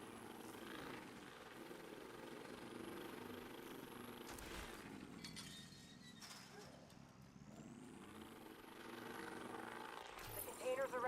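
Helicopter rotor noise from a Division-style video game, a steady mid-loud drone running through the whole stretch alongside other game sounds, with voices talking over it at times.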